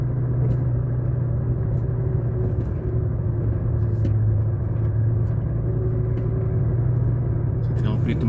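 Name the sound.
truck engine straining to get wheels gripping in mud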